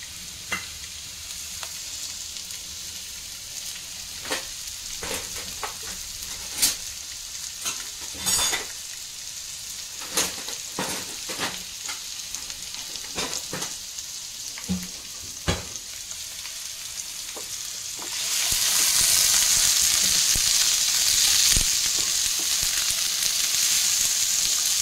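Oil frying in a pan for green tomato chutney, a steady close sizzle broken by scattered clinks and scrapes, swelling into a louder, continuous hiss over the last several seconds.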